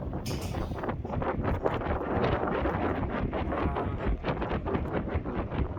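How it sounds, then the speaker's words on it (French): Strong wind buffets the microphone continuously on a footbridge in the Vercors mountains, France, a loud roaring rumble with gusty fluctuations and no talking. "Il y a du vent."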